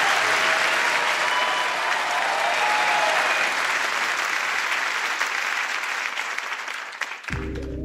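Loud, dense studio audience applause for a singer on a music show, sustained clapping with crowd noise that holds steady for several seconds before cutting off sharply at the end.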